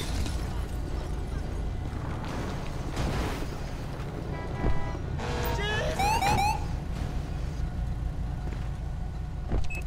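A Grand Theft Auto 5 ambulance siren wails up and down in the middle distance, heard against a steady rumble of in-game traffic and engine noise.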